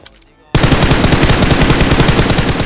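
Loud, sustained automatic gunfire from a video game battle royale match, bursting in abruptly after a quiet moment and continuing as a dense, rapid, continuous stream of shots at close range.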